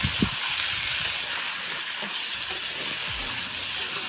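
Peanuts roasting in a kadhai over a chulha give a steady, close hiss and sizzle, with a few soft low knocks mixed in and no talking.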